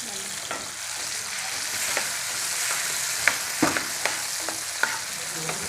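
Onions with chopped tomatoes frying in a pan for village-style sarson ka saag, a steady broad sizzle running throughout with occasional sharp spoon scrapes and taps as the mixture is stirred; no talking.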